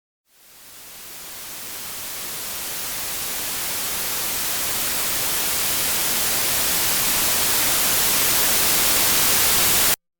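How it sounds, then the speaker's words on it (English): Broadband hiss that fades in from silence and keeps swelling steadily louder over about ten seconds, then cuts off abruptly. "We start by playing a challenging short white noise sample that has an increasing audio level."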